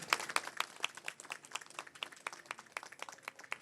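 A church congregation at a parish golden jubilee celebration in Illandu, Khammam breaks into applause, many hands clapping in a moderate, somewhat distant patter for a few seconds.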